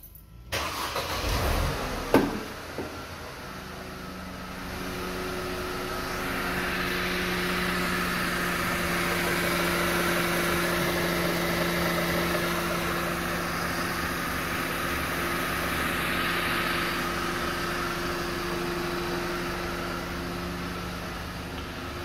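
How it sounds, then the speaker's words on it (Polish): A Mercedes car with an M271 engine cranks and starts with a short burst, then settles into a steady, even idle that holds for about twenty seconds, close by and with no voices. "jeszcze odpalimy, żeby pokazać, że wszystko chodzi."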